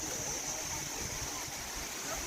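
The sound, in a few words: Sticky Waterfall flowing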